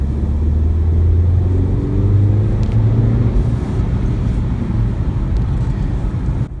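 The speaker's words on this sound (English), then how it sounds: "But as you accelerate, you can see" A BMW X1 28i xDrive SUV accelerates, heard from inside the cabin as a loud, steady low engine drone with rising tonal hum and road rumble, no talking.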